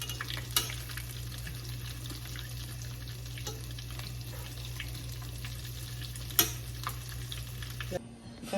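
Stuffed mushrooms fry in medium-hot oil with a low, continuous crackling sizzle and a couple of sharp pops, the sound cutting off abruptly near the end.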